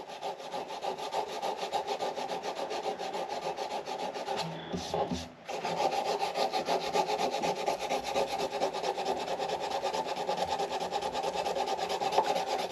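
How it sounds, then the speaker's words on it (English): Rhythmic back-and-forth hand sanding of finish off a wooden Martin D-18 guitar neck, close and steady, with a brief pause midway before the rasping strokes resume. "So I'm just sanding it carefully here, getting this finish off."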